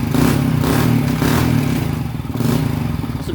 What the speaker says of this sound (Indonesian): Nah, motor dia langsung hidup di engkol sekali, perhatikan.